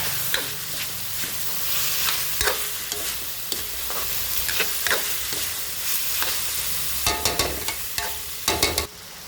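Chicken pastel ingredients stirred in a hot pan, with steady sizzling and frying under repeated scraping and clinking of a utensil against the pan, growing busier toward the end.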